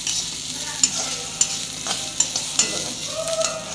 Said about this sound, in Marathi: चांगला लाल होत आलाय कांदा, ऑटोमॅटिक फुटायला लागलाय कांदा ह्याच्यात हा